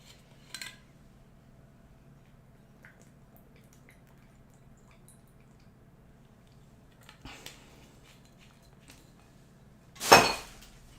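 A glass object drops into a garbage can and breaks with one sharp crash near the end. Faint clicks and small knocks come before it in a quiet room.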